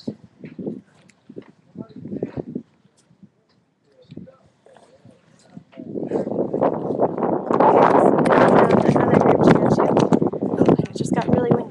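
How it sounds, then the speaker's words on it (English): Wind buffets an outdoor microphone at a military tactical training base, a broad steady roar rising over the second half and covering earlier scattered voices and movement. "It just got really windy"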